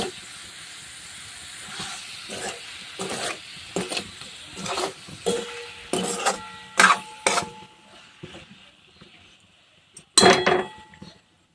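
Cooked vegetables in oil are stirred in a pan, making irregular scraping and clinking strokes over a sizzling hiss, close up, with no talking.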